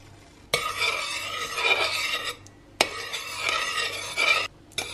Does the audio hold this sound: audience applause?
no